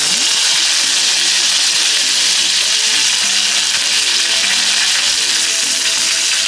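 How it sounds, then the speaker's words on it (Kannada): Tempering oil for a cucumber buttermilk tambuli sizzles loudly and steadily as a sprig of curry leaves and dried red chillies hit it, a dense, continuous close-up hiss with no voices. "ಒಂದು ಕಡ್ಡಿ ಕರಿಬೇವು ಹಾಕೋತೀನಿ."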